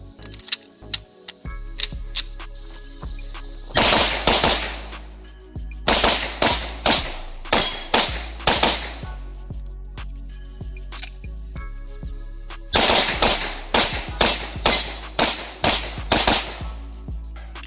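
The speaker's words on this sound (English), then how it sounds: "We're gonna start out with the MPA DS9 Hybrid Black Dot 124 major ammo." Rapid strings of pistol shots from an MPA DS9 Hybrid firing 124 major ammunition at an IPSC practice range, loud sharp cracks in fast bursts separated by brief pauses, with faint clicks and ticks in between.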